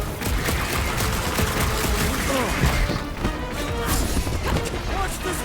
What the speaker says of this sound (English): Shooting the jelly's no good!